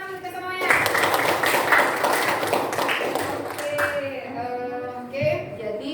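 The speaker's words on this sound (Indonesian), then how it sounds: "Tepuk tangan kita semuanya." Audience hands clapping together at a physics teaching session, a dense burst of applause with talk mixed in throughout, fading toward the end.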